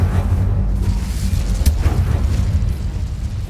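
A Confringo spell in Hogwarts Legacy sets off a loud, rumbling blast that rolls on for several seconds as a dense, low roar with a brief crackling pop in the middle.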